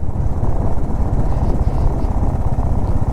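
Four motorbikes riding along a deserted mountain road in Spiti Valley, a steady close engine drone with rumbling low end and rushing wind, continuous throughout without a break.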